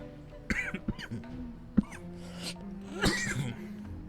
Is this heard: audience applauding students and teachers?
no